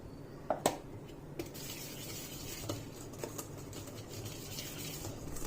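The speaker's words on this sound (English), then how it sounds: "Just keep whisking." Whisking orange cake batter in a bowl: a continuous soft swishing with a few sharp clinks of the whisk against the bowl early on, close up and with no talking.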